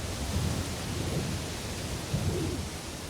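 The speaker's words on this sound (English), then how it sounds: "even the distant Roll of Thunder" Distant thunder rolling through a rainy landscape in Assassin's Creed Shadows, with low rumbles swelling and fading twice over a steady hiss of rain.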